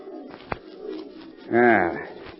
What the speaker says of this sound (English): Something screamed in those woods. Yes, that was just an old screech owl. There it is again.